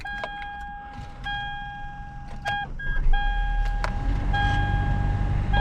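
Gen 1 Toyota Prius powers up after repair, with a series of steady electronic warning chimes sounding in repeated tones while a low engine rumble builds underneath and settles into a running idle, heard from inside the car.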